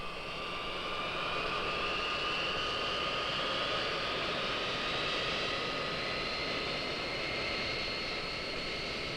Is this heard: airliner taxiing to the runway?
yes